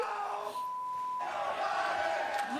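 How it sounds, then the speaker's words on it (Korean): A large crowd at a NASCAR race chanting insults at President Biden, a loud, sustained roar of many voices carrying over the open track with a steady tone running beneath. "그러니까 관중들이 바이든을 향해 욕을 한 건데"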